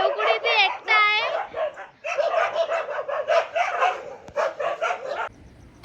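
Dogs fighting at night, with rapid, sharp barks and yelps close by, a harsh run of snarls and overlapping barking that comes in bursts across the clip, then fades at the end.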